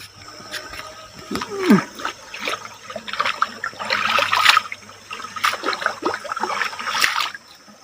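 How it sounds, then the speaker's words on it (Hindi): Bhuineem and giloy herbs being rinsed by hand in stream water, with close splashing, trickling and sloshing in uneven bursts over a steady outdoor water murmur. "तो ये नाला है और इसमें इस भुईनीम और गिलोय दोनों को धो लेता हूँ।"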